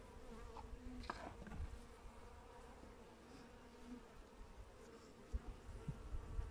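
Carniolan honey bees at the hive: a faint, continuous buzzing drone with individual bees rising and fading close by, and a few soft knocks.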